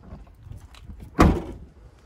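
A car door opens with a single loud thunk partway through, close by inside a hot car at an outdoor used-car market, set against low background noise.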